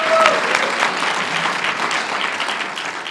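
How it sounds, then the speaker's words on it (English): Audience at a brain-adaptation goggles demonstration claps for a volunteer, a dense burst of applause that is loudest at the start and slowly thins over a few seconds. "let's have a big round of applause for Michael Edwards"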